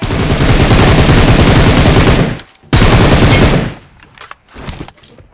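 Rapid automatic gunfire in the mobile battle royale game BGMI pours out in two long, loud, sustained bursts, followed by a few scattered shorter shots, with no talking.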